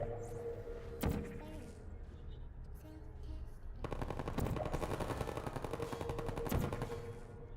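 Turret gunfire in the video game Portal, bursts of rapid automatic shots, loud and close, with a single sharp shot early on and then a sustained rattling stream, heard without talk over it.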